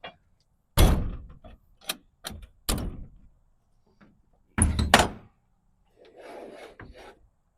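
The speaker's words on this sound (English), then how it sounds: "There's your door lock." An old door lock being worked on abandoned property, with sharp wooden thunks, rasping slides and scraping in separate bursts separated by silences, close and fairly loud.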